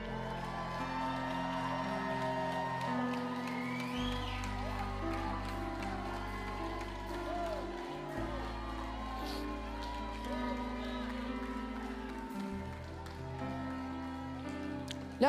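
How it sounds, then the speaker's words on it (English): A church congregation cheers and whoops during a live deliverance service, a steady crowd roar layered over sustained worship music with low organ-like bass, with some talk mixed in. "Now I want you to start cheering to God right now."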